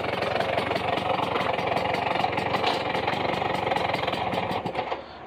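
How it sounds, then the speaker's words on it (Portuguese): A 1990 Piaggio Vespa PX 200 scooter engine runs steadily and loudly up close with a rough, rapid two-stroke beat, then drops away slightly at the very end. "A Vespinha funcionou, hein?"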